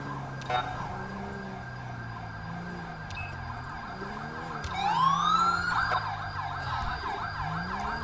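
Within the GTA V LSPDFR police game, an ambulance siren rises into a loud wailing sweep partway through, over a low droning vehicle engine and brief electronic chirps.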